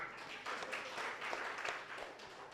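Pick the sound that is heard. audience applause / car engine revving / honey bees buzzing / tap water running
audience applause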